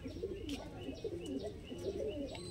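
Teddy pigeons coo softly and repeatedly in a low, throaty rolling rhythm, close by, with a few faint chirps mixed in.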